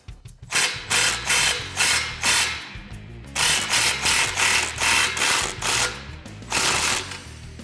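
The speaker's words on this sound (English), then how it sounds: "I'm gonna take our 15 millimeter and just give it a little bit of a snug." A ratchet driving a 15 mm socket snugs an exhaust hanger bolt on a 2017-2022 Ford Super Duty 6.2L during an MBRP 4-inch exhaust install, giving steady rapid clicking bursts in repeated strokes with brief pauses between.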